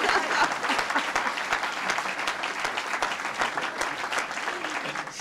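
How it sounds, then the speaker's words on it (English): An audience at a 1998 presidential HIV/AIDS initiative announcement gives sustained applause for Donna Shalala, a steady roomful of clapping at moderate distance with no voices on top. "We really should give her a big round of applause."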